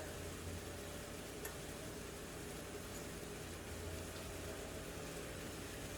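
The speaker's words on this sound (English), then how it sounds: "you're just gonna let it like simmer a little bit" Honey garlic shrimp sauce simmers in a pan with a soft, steady bubbling sizzle that continues evenly throughout, fairly quiet and close, with no voices.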